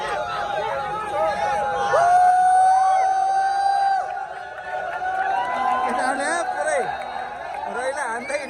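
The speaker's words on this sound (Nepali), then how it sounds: "उता चाहिँ पुरै जयकारा लगाइरहेछ" At a Nepal vs UAE cricket final, a large stadium crowd cheers and chants, with whoops and shouting rising and falling, some of it close by, alongside nearby talk.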